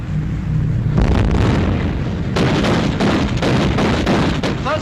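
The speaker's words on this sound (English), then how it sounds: "Open fire! Shoot!" Naval guns fire in a 1942 WW2 film, heard as loud, heavy booming blasts with sharp bursts that overlap and carry on without a break.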